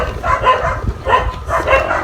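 A dog barks in three muffled, rhythmic woofs spaced about half a second apart, loud and close in a noisy indoor setting.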